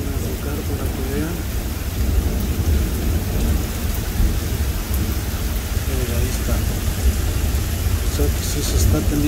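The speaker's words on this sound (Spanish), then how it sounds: "Miren ahí la cantidad de lluvia que está cayendo ahí en los techos." Heavy rain pouring onto roofs during a thunderstorm in Iowa, a steady dense hiss with low rumbling underneath that runs throughout.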